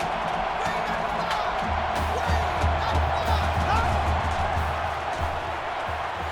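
Roaring crowd at a college football stadium on a third-down play, a dense, sustained wall of noise with cheering swells, heard under a commentator's voice.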